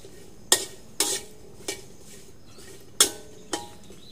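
A metal utensil clanks against a pan while chilies, shallots and garlic are dry-roasted, giving five sharp, separate clinks spaced irregularly over a quiet background.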